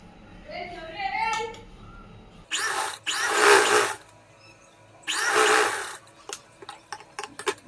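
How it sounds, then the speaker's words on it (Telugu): A sewing machine stitches blouse cloth for invisible piping, running in two short whirring bursts with a few sharp clicks between them, close by and fairly loud after a stretch of talk. "అందుకని అయితే ఇప్పుడు నేనైతే కుట్టు వేస్తున్నాను"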